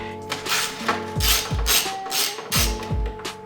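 A ratchet wrench loosens the rear headlight bolt on a BMW E60 M5, giving several bursts of rapid clicking with brief pauses between strokes, close and clear with no voices.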